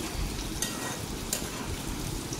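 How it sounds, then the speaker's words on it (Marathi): Chopped onion frying in hot oil for a biryani, a continuous loud sizzle close to the pan with a couple of sharp stirring clicks and no talking. "तर अगोदर मी कांदा फ्राय करून घेते"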